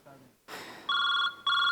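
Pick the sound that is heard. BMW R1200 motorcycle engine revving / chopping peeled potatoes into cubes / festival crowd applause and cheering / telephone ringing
telephone ringing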